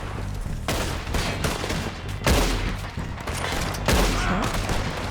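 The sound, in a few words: gunshots in the video game Red Dead Redemption 2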